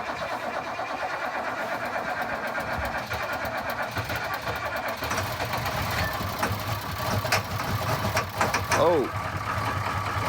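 Abandoned dump truck engine cold starting in freezing weather, then rumbling and idling roughly at close range, loud and steady, while people talk and exclaim over it.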